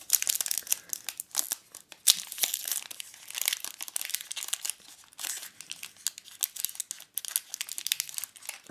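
Cadbury Dairy Milk 30% Less Sugar chocolate bar wrapper ripped open by hand, a close, continuous run of crisp crinkling and tearing with sharp crackles, no talking.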